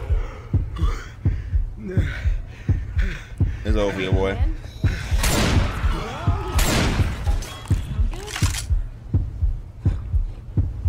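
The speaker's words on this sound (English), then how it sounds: "But my heartbeat, bro." The heartbeat effect from the video game Left 4 Dead 2 pounds in a steady, loud rhythm throughout, with game noises and several players talking over it.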